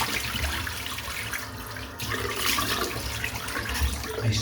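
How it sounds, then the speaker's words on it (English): Cold water runs from a sink tap and is splashed up by hand, a continuous close rush of water with a brief dip midway, no talk. "Nice splash of cold water."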